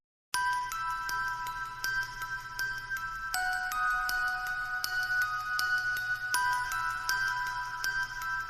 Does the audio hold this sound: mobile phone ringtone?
yes